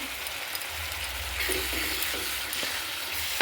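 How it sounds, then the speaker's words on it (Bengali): Spice paste with chopped coriander leaves being sautéed in a pan for a potato chicken curry, a steady moderate sizzle with occasional stirring scrapes and spits, no talking. "মশলার সাথে এটা আমি কষে নিচ্ছি।"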